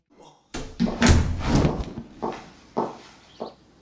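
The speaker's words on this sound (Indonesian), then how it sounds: "Syahroni yang sedang pesta mendengar suara pintu dibuka." A door is opened during a party. A sharp thunk is followed by a few dull knocks and thuds, with voices talking over and between them.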